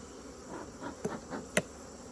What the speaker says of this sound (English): That was a yellow jacket, not a honeybee.